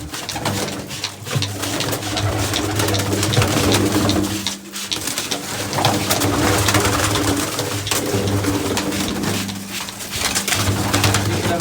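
A flock of pigeons coos continuously at close range, with layered, overlapping throaty calls filling the air and no one speaking.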